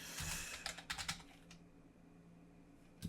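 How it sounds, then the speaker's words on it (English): Typing on a computer keyboard: a quick burst of close, crisp key clicks in an uneven rhythm for about a second and a half, then near silence with a final tap at the end. "Let me type"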